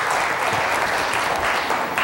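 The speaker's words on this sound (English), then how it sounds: "Everyone give him a hand of clap." A church congregation claps during a sermon, a dense, steady burst of applause from many hands filling the room at close range, with no talking over it.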